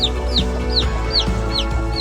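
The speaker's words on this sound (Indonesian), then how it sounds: "anak ayam saya baru menetas" Newly hatched fighting-breed chicks peep in a rapid, repeating chorus of high chirps, loud and close, with a steady low hum underneath.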